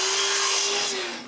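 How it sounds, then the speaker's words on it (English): A power tool cuts a strip of plastic for an edge sander build, a close, steady high-pitched whirring drone with broad grinding noise that tapers off slightly near the end. "I trace the length of the plastic and cut it."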